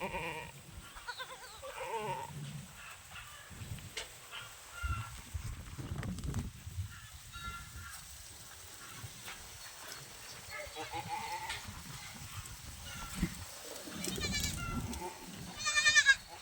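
Farm goats bleat and call while browsing on leafy fodder, several wavering bleats scattered across the clip at middle distance amid rustling and general barnyard noise, with a person's voice heard now and then.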